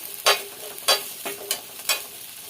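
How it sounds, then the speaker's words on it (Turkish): Bread toasting in a frying pan for a homemade döner, heard as a few faint, evenly spaced bursts of sizzling and scraping in a quiet kitchen. "ben ekmek kızartacağım"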